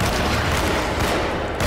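Rapid gunfire from the Alone in the Dark video game, a dense, loud burst of overlapping shots filling the whole moment with no voices over it.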